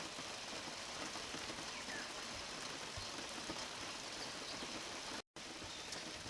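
Rain falls steadily on a camper on a grey day, a constant even hiss of drops from inside with no talking.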